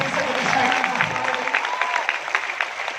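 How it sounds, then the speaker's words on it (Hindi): Enthusiastic audience applause at a leadership speech event, dense clapping from a crowd throughout the short stretch, with a speaker's voice faintly over it. "तालियां बहुत जबरदस्त है"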